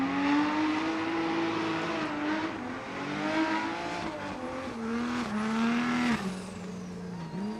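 A drift car circles Irwindale Speedway with a loud, sustained engine drone whose pitch rises and dips as the driver works the throttle, with tire squeal mixed in and a sharp rev change near the end.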